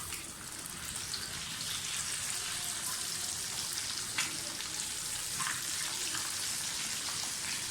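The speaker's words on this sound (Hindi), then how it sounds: "और फ़िश को अंदर तक डीप फ्राई होने दें।" Fish deep frying in hot oil for a crispy, restaurant-style fry gives a steady, dense sizzle and crackle that holds at a soft, even level throughout, with a few slightly sharper pops.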